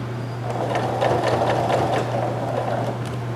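A sewing machine stitches a sweatshirt pocket with a steady, close, rapid mechanical hum and faint rhythmic clatter, running alone for a few seconds.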